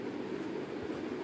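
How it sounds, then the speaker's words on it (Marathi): A local commuter train heard from inside while riding: a steady low rumble and rolling noise of the carriage, continuous and fairly close, with no talk. "बघा 10 वाजेची लोकल ट्रेन आलेली, आम्ही बसलेलो त्याच्यामध्ये"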